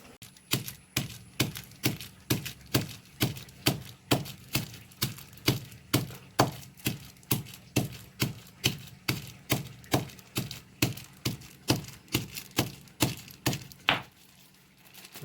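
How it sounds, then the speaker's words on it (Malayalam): Whole black peppercorns crushed by hand for a chicken curry, a steady series of sharp, evenly spaced pounding knocks, close and loud, continuing for over a dozen seconds before stopping. "കുരുമുളക് ഇങ്ങനെ കുരുവായിട്ട് പൊടിക്കണം നമ്മൾ"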